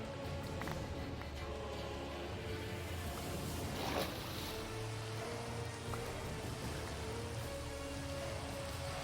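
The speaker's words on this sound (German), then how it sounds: "Und es regnet." Soft, steady patter of rain in Minecraft falling on surfaces, continuous throughout with a low background hum and a few faint tonal notes.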